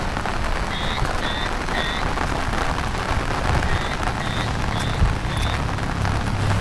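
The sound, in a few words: heavy monsoon rain in Konkan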